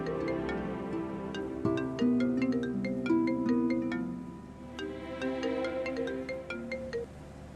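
A melodic phone ringtone plays steadily while an outgoing call is placed, a bright electronic tune of sustained notes and chiming accents, clear and fairly close with no talking over it.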